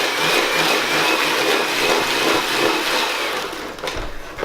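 An electric mixer whirs steadily and loudly up close as eggs are beaten into butter and sugar for an Oreo cake batter, slowing and winding down near the end with no talking.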